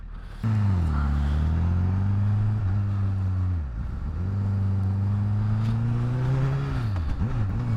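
A Honda CBR1000RR Fireblade motorcycle ridden around Regent's Park, its engine droning steadily with rising and falling revs and a brief dip mid-ride, loud and close without talk.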